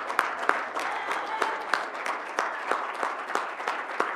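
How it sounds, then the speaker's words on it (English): Applause from an indoor audience at a city board of education meeting, a steady crackle of many hands clapping with sharper individual claps standing out, moderately loud and continuous. "Oh, you get more applause."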